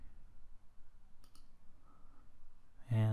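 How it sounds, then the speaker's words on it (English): A computer mouse gives a short double click, faint and close, against a quiet background. A louder burst of noise follows at the very end. "So then we'll just click OK"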